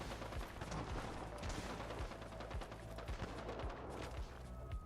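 Constant gunfire in a survival video game with nukes and raids, rapid repeated shots forming a continuous fusillade over a dense background, fairly distant and low in level.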